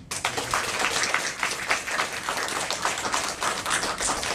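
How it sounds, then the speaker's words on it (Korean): An audience claps at a talk about a wrestler who won gold at 62 kg despite injuries, a dense, even patter of many hands that holds steady throughout without voices. "이 내용 박수 쳐주세요."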